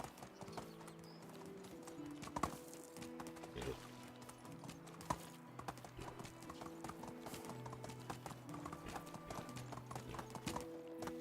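Horse hooves clip-clop in a steady walking rhythm through a Medieval Dynasty game scene, nearby and clear over layered game music, with an occasional whinny and soft background talk.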